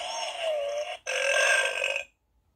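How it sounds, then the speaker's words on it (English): Hasbro Ghostbusters ghost whistle toy on its Muncher setting produces two buzzy, burp-like fart sounds, the first about a second long, then a brief gap and a louder second burst, close and clear, ending in silence. "So you'll get a bunch of different fart noises and different sounds that come out of it as you talk into it."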